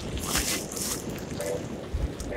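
Strong wind sweeps across a ski slope during freeride at Sheregesh, a steady broadband rush with gusty swells buffeting the microphone throughout.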